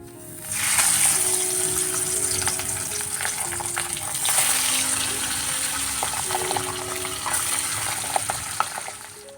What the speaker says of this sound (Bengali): চলো মাছগুলোকে রান্না করে নিই